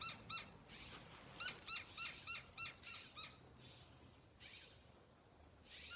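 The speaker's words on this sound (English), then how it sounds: "It's a woodpecker. It's a big one." A large woodpecker outdoors gives a run of repeated sharp calls or knocks in a steady rhythm, fairly faint and distant, then a few more scattered bursts.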